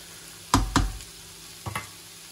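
Giant squid with garlic frying in an open pan, giving two loud close bursts of sizzle and stirring early on and a softer pair near the end, with quiet low hiss between.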